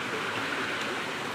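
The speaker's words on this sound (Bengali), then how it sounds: "এখানে যে পানির শব্দ" Stream water rushes among large boulders, a steady broadband wash of flowing water close by.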